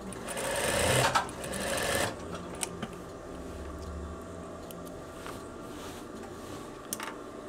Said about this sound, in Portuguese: Esse bolso também eu vou passar 2 costuras nele